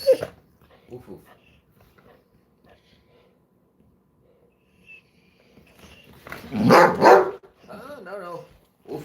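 A dog up close gives a few sharp barks and yips, loudest in a cluster near the end, with quieter scattered sounds and people talking around it.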